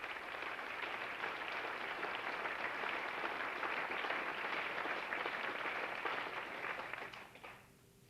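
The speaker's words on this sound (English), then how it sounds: "How about a nice round of applause for John Dunlap." A banquet audience at a high school athletics, activities and fine arts banquet applauds John Dunlap, a dense, even round of clapping from a crowd that holds for several seconds before fading out.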